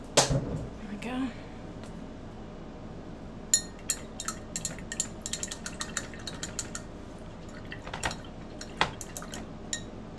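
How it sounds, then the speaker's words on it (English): A paintbrush is rinsed in a glass jar of water, making soft swishes and a rapid run of small clinks and taps against the glass, with talking heard over parts of it. "Rinse my brush."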